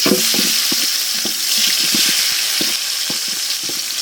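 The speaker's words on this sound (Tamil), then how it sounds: "நல்லா வதக்கி விடு நண்பா பொன்னிறமாக ஆகட்டும்" Onions and cashews sautéing in a pot for village-style guinea fowl biryani, a loud steady sizzle with frequent clattering stirs and scrapes of a spoon against the vessel, no voices.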